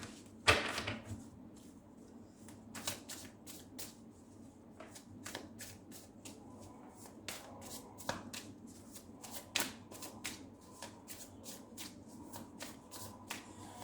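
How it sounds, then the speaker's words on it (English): Tarot cards from a Light Seers deck being shuffled by hand, a loose, sloppy riffle of quick papery flicks and slaps that repeat steadily at close range for the whole stretch, with no talking. "Sloppy shuffling out there"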